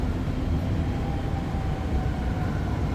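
A REM light metro train runs at night near Gare Centrale, a steady low rumble with faint whine heard from inside the car, continuous and even with no talk.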